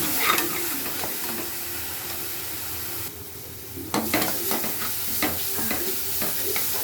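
Onion paste with green chilies, salt and cumin fries in oil, a close, steady sizzle with a brief dip before stirring resumes in a run of scraping clicks and taps, no voices over it.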